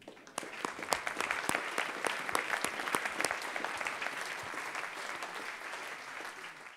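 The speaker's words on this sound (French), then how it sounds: "je vous propose qu'on vous applaudisse tous" Audience applause at the close of a European round-table discussion on peri-urban areas, dense steady clapping from a crowd in a hall, starting abruptly and continuing evenly without talk.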